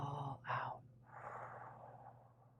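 A deep, slow breath out during a guided breathing exercise, soft and airy after a brief sharp intake, fading gradually over about two seconds.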